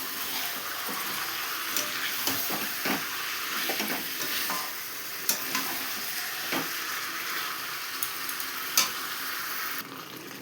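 Spice paste sizzles steadily in a hot frying pan while a spoon stirs it, scraping and clicking at intervals close by, with no voices.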